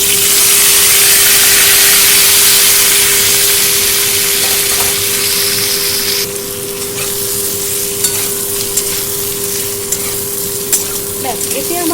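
Fried potatoes and prawns go into a hot pan with oil, nigella seeds and green chillies, setting off a loud, continuous close sizzle with occasional stirring scrapes and a steady hum underneath.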